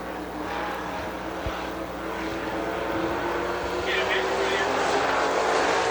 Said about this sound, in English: Colt Sosby, Randy Ledford down on the back straightaway